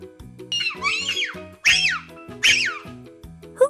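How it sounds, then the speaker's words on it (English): Baboon calls from a safari animal guessing game: a few loud, rising and falling whooping barks in separate bursts, close and clear, with no talking over them. "It's a baboon."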